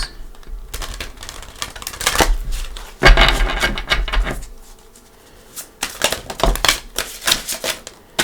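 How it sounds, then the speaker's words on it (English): Cards are shuffled in quick riffling bursts, a crisp rapid flutter of clicks that comes and goes, close up. "Let me give them a couple shuffles."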